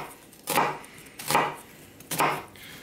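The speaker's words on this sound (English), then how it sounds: "we're gonna make a couple of cuts. Leave the core of the onion on." A knife slices through an onion on a cutting board, three separate crisp chops spaced about a second apart, close and fairly loud with no talking.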